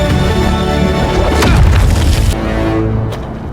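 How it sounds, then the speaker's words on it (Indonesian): A boulder is blasted apart in a fantasy film scene. A deep, heavy boom with a crashing rumble swells and fades over a few seconds. "saya akhirnya dapat meledakkan bongkahan batu"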